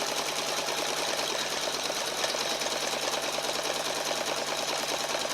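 An embroidery machine stitches a brown satin stitch on a mug rug, a steady, fast mechanical needle chatter with a constant hum, continuous and close throughout with no voices.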